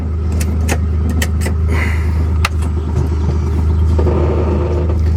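A vehicle driven on a farm, a loud steady engine rumble held close and constant throughout, with a few light clicks and rattles on top and no talking.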